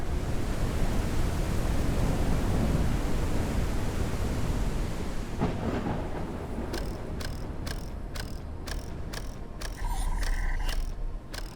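Storm in the video game Forever Skies: a loud, steady roar of wind and rushing air for several seconds, then a run of evenly spaced rhythmic clicks or clanks over a quieter rushing bed before the roar swells again.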